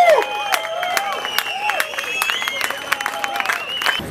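An audience claps steadily and densely after a live band performance, a continuous patter of many hands with some crowd murmur mixed in, lasting throughout.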